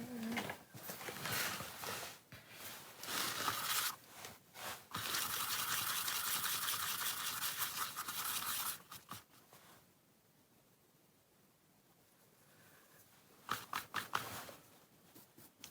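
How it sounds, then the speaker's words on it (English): A paintbrush dry-brushing paint onto the top of a mixed-media altered book makes bursts of quick, scratchy bristle strokes, then a quiet pause before a few short final strokes. "I'm just dry brushing that on the top"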